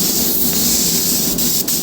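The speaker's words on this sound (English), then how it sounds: "I'm going to cut mine off there just to show you guys me spraying this side of the bumper" A spray gun applies flat white basecoat paint onto a car bumper, producing a loud, steady airy hiss that runs continuously and close-up, with a couple of faint taps near the end.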